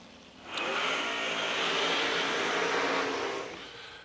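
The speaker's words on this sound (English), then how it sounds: "another drag race" A pair of dragsters launches in a drag race, a loud roaring engine blast starting abruptly after a moment of quiet and holding steady for a few seconds before fading as the cars pull away.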